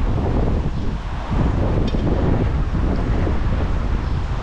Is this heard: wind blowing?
yes